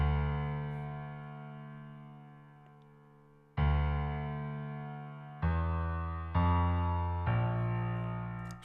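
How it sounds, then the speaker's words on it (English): A piano strikes five bass-heavy chords for a beat's main progression, the first held long and fading slowly and the later ones coming in quicker succession, each ringing out alone. "I laid down some bass notes, you know, for the main progression"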